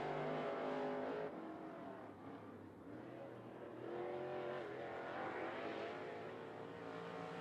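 A limited late model race car laps 411 Motor Speedway, its engine roaring continuously at a distance with rising and falling pitch as it circles the track, fairly faint overall.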